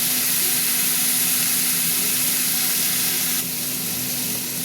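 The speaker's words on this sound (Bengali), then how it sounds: "আর একটু ভাজা হোক।" Onion and tomato frying in a pan for fish curry make a continuous, loud sizzling hiss with a faint steady hum behind it, dropping slightly in level near the end.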